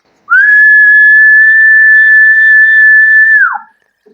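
A steady single-pitch whistle tone sent from an amateur radio transmitter while it is tuned on single sideband, loud and clean, holding for about three seconds before dropping away abruptly.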